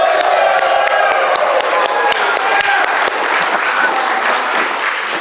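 A storytelling festival crowd in Cedar Rapids applauds and cheers loudly, sustained clapping layered with shouts and voices that stays strong throughout.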